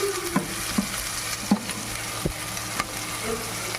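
Ginger garlic paste frying in a pan with coriander and curry leaves, a dense continuous sizzle broken by a few distinct scrapes and taps as a spoon stirs it; no one speaks.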